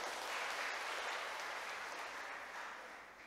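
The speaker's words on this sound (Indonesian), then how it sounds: "Jadi kita tepuk tangan untuk beliau." A church congregation at a Sunday worship service applauds with a soft, even wash of clapping that fades slightly toward the end, with no talk over it.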